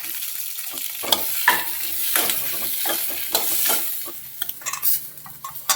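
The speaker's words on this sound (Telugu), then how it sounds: "పచ్చిమిర్చి ఉల్లిపాయలు నూనెలో వేయించుకోవాలి దోరగా" Green chillies and onions fry in oil for a tender tamarind leaf chutney, a close, continuous sizzle punctuated by frequent scraping stirs and clattering spatula strokes.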